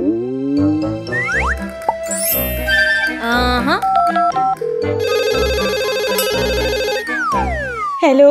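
Cartoon phone ringtone, a string of bright, bouncy electronic jingles and boings with tinkling tones and rising sweeps, loud and close, playing alone without talk.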